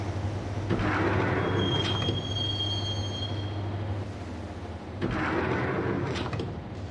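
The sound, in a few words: train ride in a video game (Max Payne on Batocera)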